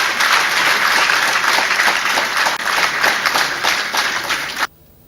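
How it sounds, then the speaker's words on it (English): Audience applause at the Nigerian Army Chief of Army Staff Annual Conference, a loud, dense burst of many hands clapping that fills the hall steadily, then cuts off sharply near the end. "May I call for a resounding applause for the special guest of honor,"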